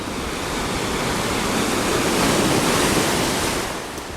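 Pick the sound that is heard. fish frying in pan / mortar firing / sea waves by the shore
sea waves by the shore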